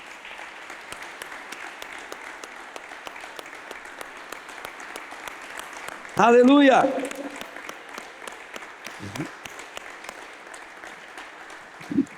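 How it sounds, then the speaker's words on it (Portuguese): Church congregation applauding during a communion service, steady scattered clapping throughout, with a loud voice shouting out briefly midway. "Dê uma salva de palmas para Jesus."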